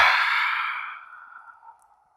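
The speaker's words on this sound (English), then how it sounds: "and an audible breath out." A single long, audible exhale during a yoga session, a breathy sigh that starts strong up close and tapers away over about two seconds.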